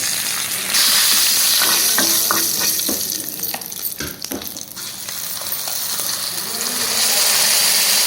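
Curry leaves fry in hot oil with dried red chillies in a pan for raw tamarind chutney. The sizzle is loud and close, and stirring clatters through the middle.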